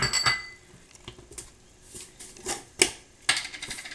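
Oats and dates go into a container for a gym smoothie, giving scattered sharp clinks and rattling taps that arrive in small clusters, close and fairly loud, with no talking.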